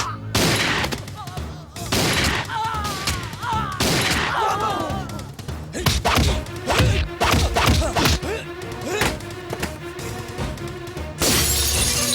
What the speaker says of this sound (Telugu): అక్కడ కాల్చు.